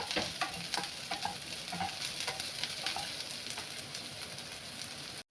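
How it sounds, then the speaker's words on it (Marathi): Green chillies sautéing in a pan with a continuous crackling sizzle and frequent stirring scrapes, close and even throughout, with no voices, ending abruptly. "मिरची चांगली परतून घ्यायची आपल्याला."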